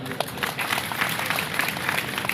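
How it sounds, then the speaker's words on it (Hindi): Dense, continuous clapping from a crowd at a Hindi poetry gathering in Jhansi, India, loud and evenly spread throughout the short stretch. "एक बार आप नेहा जी के लिए ताली बजा दीजिए"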